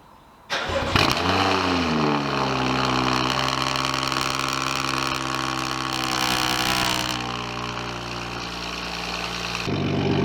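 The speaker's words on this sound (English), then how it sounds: "I turned it on just for you so you get to hear the cold start" A car engine cold-starts, cranking and catching, revving up loudly before settling into a steady, high idle that drops slightly near the end.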